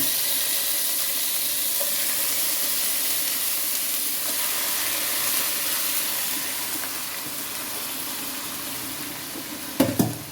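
Chicken pieces frying in hot coconut oil in a pan give a loud, steady, broad sizzle that holds throughout, easing slightly toward the end before a brief clatter of a utensil.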